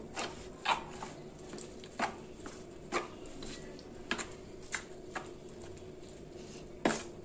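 Breakfast batter with coriander leaves being stirred in a bowl, with soft wet squelching strokes and occasional spoon taps against the side, close and fairly quiet.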